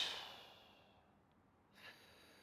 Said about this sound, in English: I'm just breathing.